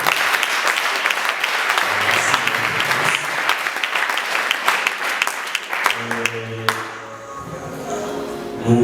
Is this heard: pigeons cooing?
no